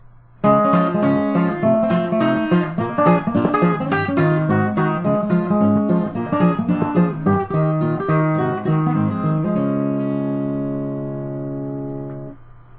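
Fingerstyle blues guitar plays a song, with syncopated thumb rolls under picked melody notes, a lively steady ragtime rhythm ending on a sustained ringing chord, close and clear with no talking.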